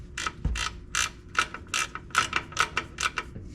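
Ratchet wrench snugging a drain plug on a Toyota Tundra differential, a close series of quick rhythmic clicking pawl strokes with brief pauses between swings.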